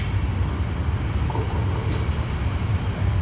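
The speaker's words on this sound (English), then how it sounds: "it's a train station, obviously, not underneath some big road. It's so goddamn noisy." Loud, constant rumble of a busy train station beside a canal, with rolling rail noise and a faint squeal, close and unbroken throughout.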